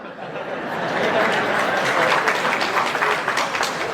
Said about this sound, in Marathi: तुम्ही टाळ्या वाजवतो म्हणजे माझेच सगळे आहेत रे बाबा